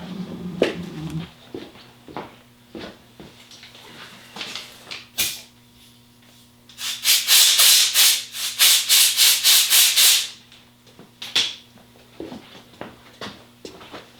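Air from a blowgun blasts in a rapid series of short, loud, close bursts over about three seconds, clearing a BMW R1100RT motorcycle gearbox drain plug in a garage, with scattered handling knocks before and after.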